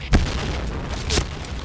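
In-game grenade explosions burst twice in quick succession, a sharp boom followed by another a second later, over a dense, noisy battle background.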